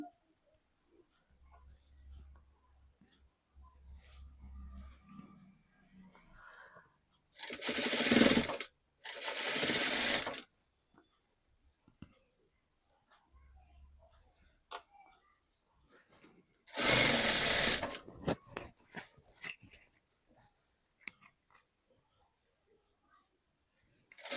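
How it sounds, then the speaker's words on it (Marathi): A sewing machine stitches cord piping on fabric in two loud bursts of rapid whirring. Quiet handling noises and faint speech fill the gaps between them. "हा जो एक दाब आहे तेवढ्या अंतरावरनं आपल्याला शिलाई मारायची"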